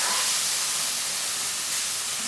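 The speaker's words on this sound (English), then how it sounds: "your chicken has been frying away in the frying pan for about 3 or 4 minutes now" Chicken frying in a frying pan gives off a steady, close, even sizzle and hiss, alone with no talk.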